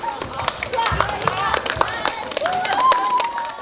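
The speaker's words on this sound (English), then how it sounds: "A round of applause." Studio audience on a news programme claps in a steady patter of many hands, with a voice talking over the applause throughout.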